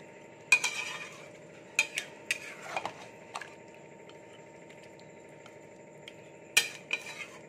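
Chicken curry thickened with cashew and almond paste is stirred in a kadai, giving sparse scraping and clinking strokes of a spoon against the pan over a faint simmer, close and fairly quiet.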